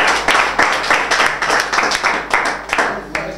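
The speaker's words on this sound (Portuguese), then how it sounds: "Aplauso pro Val." Audience applause at a rap battle, a dense burst of clapping and crowd noise that pulses and stays loud for a few seconds.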